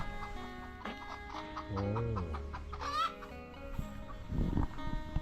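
Chickens cluck nearby, with several overlapping hens giving short clucks and drawn-out squawking calls, one rising cry standing out, over a busy farmyard background with no talking.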